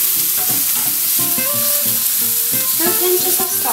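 Potatoes frying in hot oil in a pan, a loud close sizzle with bubbling crackle and occasional stirring clinks, no voices.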